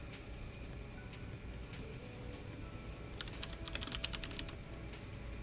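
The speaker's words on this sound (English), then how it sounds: "Whoops, I am typing..." Keys on a computer keyboard clatter in a short, quick burst of tapping during a CAD modelling session for shop parts, set against a steady low background hum.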